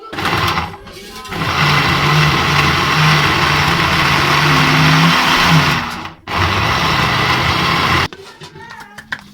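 An electric grinder purees three large onions into paste for chicken korma, whirring loudly and steadily with a brief dip in the middle before it cuts off near the end. It is close and has no talk.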